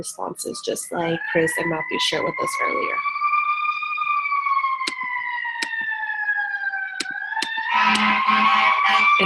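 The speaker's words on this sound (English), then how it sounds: "I think everyone could probably hear the fire truck behind me" A fire truck siren outside wails with a rising and sustained tone, steady and fairly loud, while someone speaks over it at the start and end.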